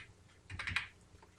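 A brief, quiet cluster of a few keystrokes on a computer keyboard as a wallet PIN is entered, heard close with no talk.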